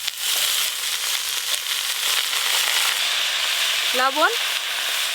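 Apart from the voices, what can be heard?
washed greens added to frying vegetables, sizzling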